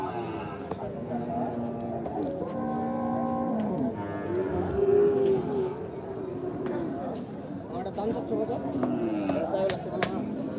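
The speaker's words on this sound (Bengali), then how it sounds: "চমৎকার একটি পাকড়া গরু হযরতপুর হাটে।" At the crowded Hazratpur cattle market, a piebald Sahiwal-type cow stands amid constant chatter. Drawn-out lowing moos rise over the busy hubbub of voices, with other livestock sounds mixed into the noisy background.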